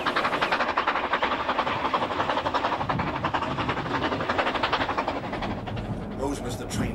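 A train rumbles past at Blaenau Ffestiniog with steady rhythmic clatter and a hissing wash of noise, loud and close throughout, with a brief shift near the end.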